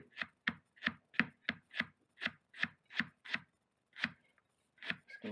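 A knife chops peeled ginger on a board in quick, crisp, close strokes, about a dozen evenly spaced cuts with a short pause before the last few.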